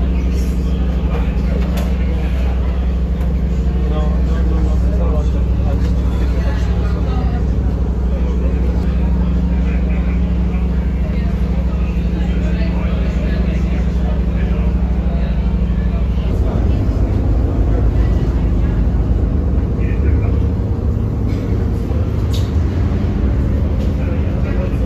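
Steady low engine drone and rumble aboard a ferry crossing to Cais de Sodre terminal in Lisbon, continuous and loud throughout, with a shift in the engine note partway through and faint voices in the background.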